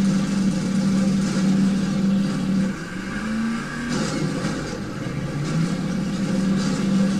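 A vehicle engine during a driving mission in Resistance: Fall of Man, a steady mid-pitched drone that dips and rises in pitch as the vehicle speeds up and slows, loud and continuous.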